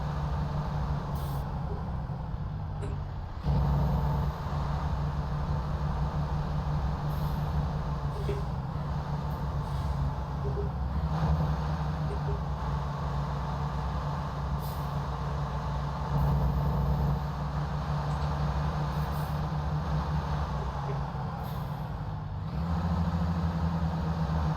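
A heavy truck engine in American Truck Simulator drones at a steady low pitch while rolling downhill under load, a continuous close rumble with a slight rise and occasional brief shifts, no voices over it.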